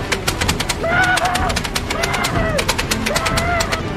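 Rapid bursts of heavy gunfire and artillery crackle in the video game Conker, loud sharp shots in quick volleys over shouting voices and rising whistling tones.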